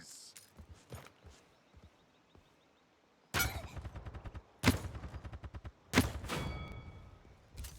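Rapid bursts of gunfire from the video game Paladins ring out in three loud volleys after a quiet stretch, each a quick run of sharp shots with faint ticks and thumps between them.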